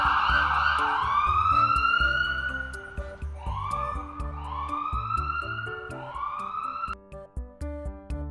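A paramedic motorcycle siren wails in repeated rising and falling sweeps, loud and close, over a steady backing music track, ending in short choppy bursts.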